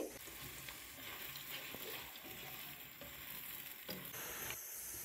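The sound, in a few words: thinly sliced onions frying to brown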